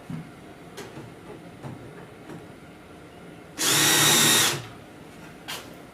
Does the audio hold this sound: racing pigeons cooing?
no